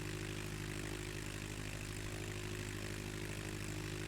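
A propeller aircraft engine at full throttle in Microsoft Flight Simulator X drones steadily and evenly throughout, a constant loud hum with no pauses and no voices.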